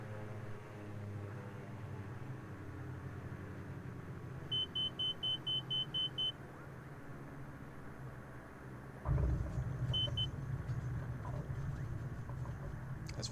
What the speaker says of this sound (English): Stall warning just as the wheels touch the ground.